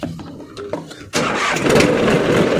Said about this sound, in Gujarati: હવે કરીશું ટ્રેક્ટર ચાલુ